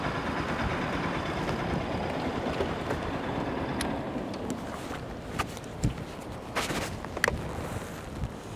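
A used motorcycle engine idles warm with a steady, rough low rumble, close and continuous, with a few sharp ticks and knocks near the end.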